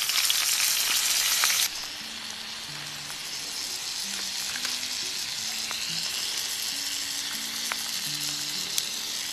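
Cauliflower mushrooms stir-frying in a pan, a loud burst of sizzle as they go in, settling into a steady hiss with scattered soft pops and scraping, no voices.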